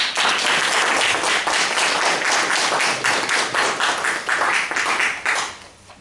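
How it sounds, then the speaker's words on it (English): An audience at a meeting applauds in a dense, close burst of clapping that holds steady for several seconds before tapering away. "Could we have a round of applause for them?"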